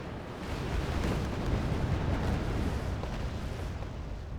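An explosion as a unit is shot down in the Wargame Red Dragon strategy game, a sustained rumbling roar of blasts and artillery, steady and fairly loud with no talk over it.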